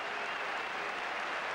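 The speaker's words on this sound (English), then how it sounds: "A generous round of applause, standing ovation for the outer" A cricket crowd gives a generous standing ovation for a batsman's century, a dense, steady wash of applause that fills the whole stretch with no break.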